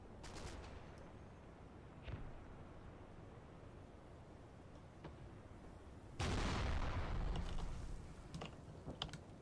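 Gunfire in a war video game: faint scattered distant shots and mechanical clatter, then a sudden loud sustained burst of heavy fire lasting a couple of seconds before fading back to sporadic cracks.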